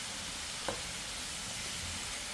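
Murukku fry in hot oil with a steady, dense sizzle and bubbling, continuous and fairly quiet, with one faint clink partway through.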